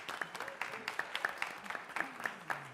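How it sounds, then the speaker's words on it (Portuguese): An audience at a federal justice symposium plenary on public procurement and contracts claps faintly and sparsely, in scattered, fairly even claps, while a voice murmurs beneath. "Eu queria uma salva de palmas."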